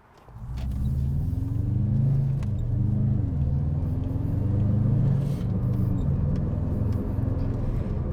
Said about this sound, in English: this is a 2-litre engine with a stonking great turbocharger on it, and of course, four-wheel drive